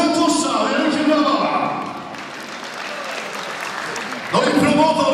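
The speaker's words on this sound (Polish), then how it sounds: "Przewodniczący Rady Miasta, pan Bogatusza, wielkie brawa." Audience applause for guests being introduced at a boxing gala, clapping under a loud announcer's voice that drops away midway, leaving the applause alone before the voice returns.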